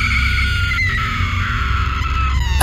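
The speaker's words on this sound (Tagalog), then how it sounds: "at sumigaw ng sobrang lakas." A loud, sustained high-pitched scream used as a horror sound effect, shrill and continuous over a low rumbling backdrop with no talk.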